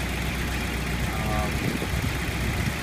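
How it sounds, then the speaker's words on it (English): A 1991 Jeep Wrangler engine idling smoothly in its engine compartment, an even mid-pitched rumble that stays steady and close while a person talks over it. "what I always tell people to look for on engines, making sure they're not idle and rough"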